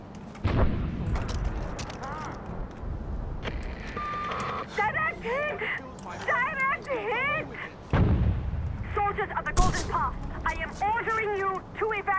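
Mortar fire and gunshots erupt during Far Cry 4 gameplay, loud booms and bursts mixed with voices talking throughout.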